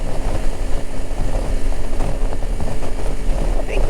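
A 2021 Honda CRF300 Rally motorcycle engine drones continuously at high revs in sixth gear climbing a hill, loud and close, with wind rumble and no talking.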